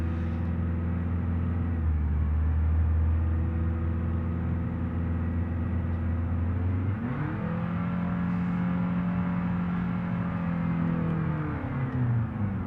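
A 2022 Nissan Rogue Sport with a CVT drives in BeamNG.drive, its engine droning as a steady, sustained hum whose pitch holds flat then slides and settles at a new level, with no talking.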